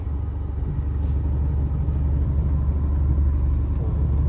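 An Isuzu V-Cross pickup with a newly rebuilt engine and automatic gearbox rumbles steadily at low revs while being re-parked, a loud continuous drone with a brief hiss or two.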